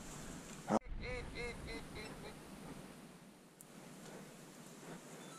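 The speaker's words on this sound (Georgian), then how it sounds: "იხვი არის ძმაო, იმენა." Wild ducks call during a late-season duck hunt, several faint quacking honks arriving in a short burst after a sharp thump, distant over a steady outdoor hiss.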